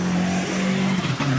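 A hybrid Subaru Impreza GC8 race car launches hard, its engine revving loudly and close with a sharp rising note and a quick shift.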